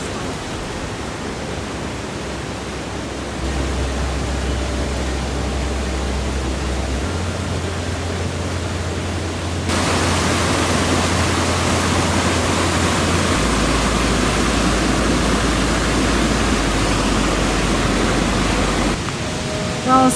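A waterfall pours as a loud, continuous broadband rush, with a deep low hum underneath that shifts in steps and a sudden jump in brightness partway through.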